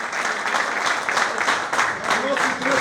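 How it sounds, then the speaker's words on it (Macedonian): Sustained applause from an audience at a Teteks Tetovo generations reunion event in Tetovo, a steady dense wash of clapping throughout. "Уште еден аплауз за Стојан Ѓорчевски,"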